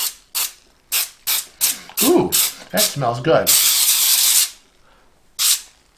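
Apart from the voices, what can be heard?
cooking spray on a baking pan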